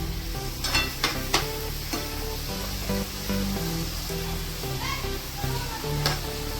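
Milk being stirred into grated bottle gourd halwa in a hot pan, a steady close sizzle with spoon scrapes and bubbling throughout.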